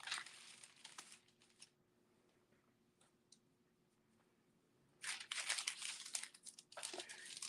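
Parchment paper being laid out for a Cricut heat-press project crinkles and rustles in short, close bursts, first briefly, then after a quiet stretch in louder, longer handling.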